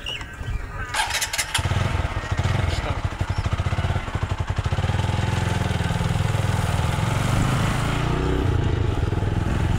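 A motorcycle engine starts up close by and settles into a steady, loud, rumbling run that continues to the end.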